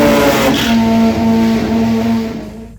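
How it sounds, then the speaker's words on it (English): A Mazda RX8 full tube drag car's 13B rotary engine idling and revving with steady harmonic tones, loud and close, holding a rough throb before tapering off at the end. "RX8 full tube drag car."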